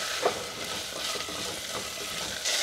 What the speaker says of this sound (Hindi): कुछ सेकेंड इसको भी हम भून लेंगे।